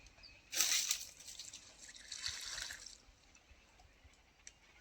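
Water is poured in two short, faint splashing bursts, the first brighter and the second softer, followed by a quiet trickle and a last small drip.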